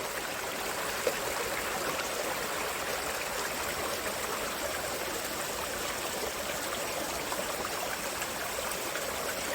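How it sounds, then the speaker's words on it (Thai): A natural stream rushes and trickles continuously, a steady broad hiss of flowing water heard close with no voices. "ฟังเสียงน้ำไหลในธรรมชาติผม"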